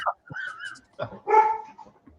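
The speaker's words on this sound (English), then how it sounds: "My dog's going nuts." A dog barks and yips excitedly in a few short, close bursts, with a whining, whimpering tone between them.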